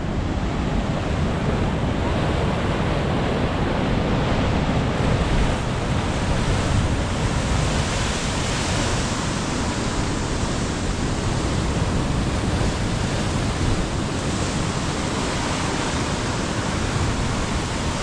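Ocean waves break steadily on the shore along a coastal route, a loud, continuous wash of surf roughened by wind buffeting the microphone, with no distinct pauses between swells.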